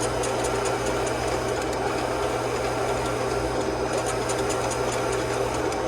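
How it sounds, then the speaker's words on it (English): A large printer lays down layers at a Dakota Digital shop, its carriage moving back and forth with a loud, continuous mechanical whir and buzzing hum that never pauses. "So it's printing what they call the satellites up top there."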